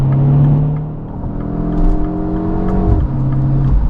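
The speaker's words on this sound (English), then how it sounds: "Very aggressive shifts there as well." A 2025 MINI JCW Convertible's engine pulls hard with S-mode shifts, its droning tone climbing steadily and then dropping sharply at a quick gear change before building again, loud and continuous from inside the cabin.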